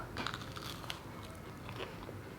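Biting into crispy food cooked on a cheap Action electric grill plate, a few close, soft crunchy bites and chewing, quiet and alone.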